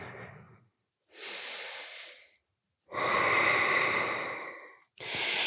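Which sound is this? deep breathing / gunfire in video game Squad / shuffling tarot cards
deep breathing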